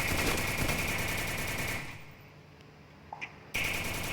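Automatic gunfire from a weapon in the battle-royale video game Free Fire, a loud sustained burst that cuts off to near silence before resuming abruptly.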